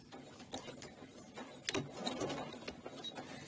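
A sewing machine back tacks through fabric with a short, quiet mechanical whir and clatter of the needle, a few seconds of close, soft stitching in a quick even rhythm.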